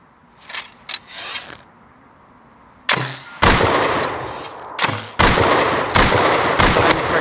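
Gunfire from the survival game Rust: several sharp, loud shots in bursts, starting with a few fainter distant pops and then heavy close reports that follow one another quickly, with no talk.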